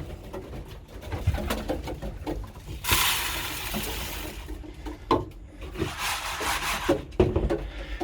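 Racing pigeons coo in a loft at feeding time, with low soft cooing throughout alongside rustling, scraping and a burst of wing flapping, close by and with no talk.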